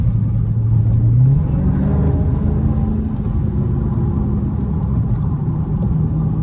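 An SRT 392 car engine warms up in street mode, a steady, close, low rumble with a slight swell in the first couple of seconds, then an even idle with no voices over it.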